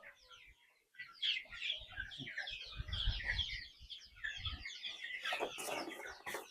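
A month-old flock of H'Mong chicks and hens chirps and clucks nearby in a covered brooder pen, a busy overlapping chorus of high peeps with a few low thumps and rustles.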